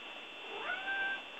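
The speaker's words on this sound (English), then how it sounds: "my cat has just entered the room" A pet cat named Mushu, just come into a room, lets out a single drawn-out meow that rises and falls, heard close and alone over faint background hiss.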